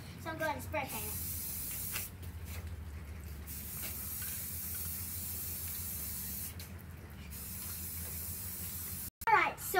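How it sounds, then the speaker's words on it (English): Spray paint hissing steadily onto a cardboard castle as it is coated dark blue, a continuous close aerosol spray broken by short pauses, with a brief voice near the end. "So I'm going to spray paint the rest of it really dark blue."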